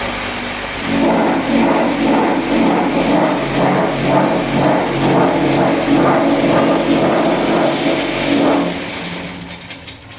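Two motors on a brick-making machine for stone-and-cement eco bricks run together with a loud, steady mechanical drone and a faint rhythmic pulsing throughout.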